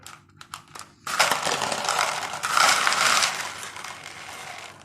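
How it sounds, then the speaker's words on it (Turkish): Dry chickpeas pour from a rotating homemade measuring dispenser, starting with a few scattered clicks and then a dense, continuous rattling cascade that swells and fades, close to the listener. "Burayı döndürdüğümüz anda nohutlar ölçeğimiz düşüyor"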